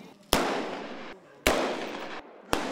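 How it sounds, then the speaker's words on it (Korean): Rifle shots at a military cadet zeroing range: three sharp loud cracks, each followed by a long fading echo, spaced about a second apart. "총기를 받고 처음 들어선 사선에서 조준점을 정확히 맞춰보는 0점 사격"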